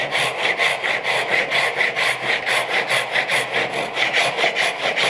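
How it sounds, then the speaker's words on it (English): A Japanese Ryoba hand saw cuts a wooden miter joint with steady, evenly paced push-pull strokes, close and clear, with no talking. "I can continue with the conventional Japanese Ryoba saw"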